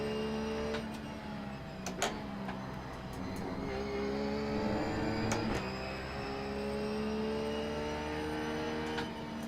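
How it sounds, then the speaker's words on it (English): A GT3 race car in the iRacing simulator at Brands Hatch hums at steady engine pitch while its traction control cuts in with a few sharp clicking stutters, held at close range with no talk. "You could just hear the traction control spooling up. Not spooling up, kicking in."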